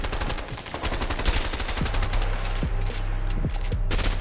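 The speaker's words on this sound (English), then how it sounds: "shooting through the walls" Rapid automatic gunfire from the video game A Way Out rattles continuously in a dense burst, with a few heavier low thumps mixed in near the end, loud and up close.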